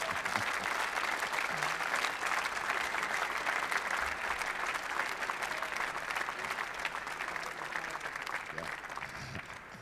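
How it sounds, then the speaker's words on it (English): Sustained audience applause at a squash event, dense and steady throughout the clip with a slight fade near the end, no talk over it. "I think that deserves a round of applause,"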